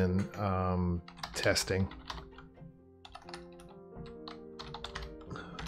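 Keys tapped on a computer keyboard, with a scattered run of light clicks under a person talking, and a low steady hum in the background.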